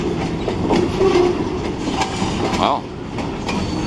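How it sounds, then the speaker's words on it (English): Freight train boxcars rolling past close by, a steady rumble with rhythmic clickety-clack from the wheels and a brief squeal, while someone speaks briefly over it. "Look at all these boxcars."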